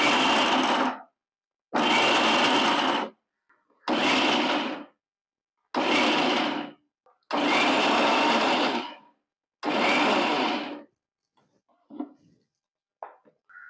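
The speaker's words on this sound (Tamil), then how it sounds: "கொஞ்சமாக போட்டு ஷேக் பண்ணி அரைக்கணும்" A mixer grinder pulses coconut pieces into desiccated coconut in six loud, roughly one-second whirring bursts separated by short silences, then a few faint rattles as the jar is shaken.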